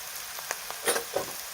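Onions browning in a frying pan for a spiced potato fry give off a faint, sparse crackle, with a few quiet pops scattered over a soft hiss.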